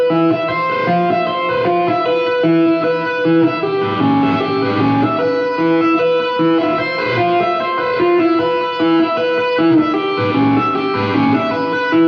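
Electric guitar chords played with a tapping technique, with a big spooky hall-like reverb, voiced in an implied E5 shape; dense sustained harmonic chords ring steadily throughout at a strong, even level.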